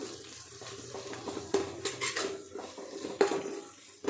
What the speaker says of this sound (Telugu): ఇందాక మ్యాగ్నేట్ చేసి పెట్టుకున్నాం కదా ఆ చికెన్ దీంట్లో వేసుకుందాం